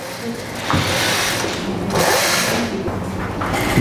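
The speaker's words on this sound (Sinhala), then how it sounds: "මේ අපි කැප් එක මහනවා" A sewing machine stitches a wig cap in a steady, continuous mechanical whir that runs near and fairly loud throughout, with small shifts in speed.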